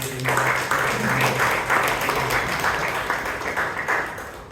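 An audience at a Toastmasters club meeting in Bangalore claps together in a dense, steady round of applause, close and fairly loud, with a short voice underneath at the start.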